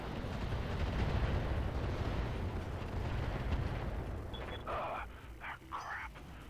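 Heavy explosions rumble in the BattleTech mech combat game as a cockpit takes hits, a dense, booming roar that fills the first few seconds before thinning, with a voice speaking over the tail end.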